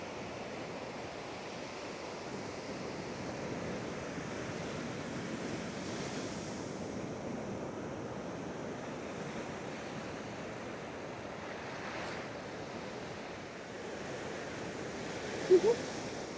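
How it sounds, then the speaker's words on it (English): Ocean waves roll steadily onto the sand at San Clemente beach in California, a continuous broad wash of surf with light wind noise across the microphone, and a brief sharp knock near the end. "It's awesome watching those waves come in."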